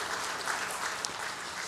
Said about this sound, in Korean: 기도해 주신 여러분들께 박수 한번 하겠습니다